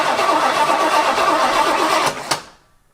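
Engine of an Oldsmobile barn find abandoned for 23 years, with a points ignition, cranks loudly and steadily up close for about two seconds without starting, then stops with a brief clunk.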